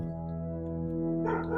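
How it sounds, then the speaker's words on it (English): A pet dog barks in the background of a home, faint and distant beneath a steady tonal hum, with a brief burst of yips near the end. "There's my dog barking in the background."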